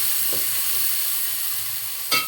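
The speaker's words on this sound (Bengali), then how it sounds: "পেঁয়াজটা ভাজা হোক।" Onions frying in oil with two green chilies, a steady close sizzle with a couple of brief stirring knocks, one near the start and a louder one near the end.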